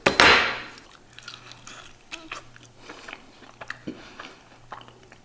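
Someone chews cooked wild boar meat at close range, beginning with a loud bite and then wet, irregular chewing and smacking.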